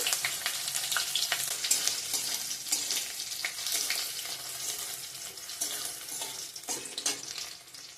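Onion, garlic and whole spices such as cardamom fry for a chicken dish, giving a busy, continuous sizzle with repeated scraping and clattering of a stirring spoon throughout.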